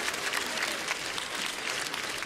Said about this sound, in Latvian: Aplausu lūdzu!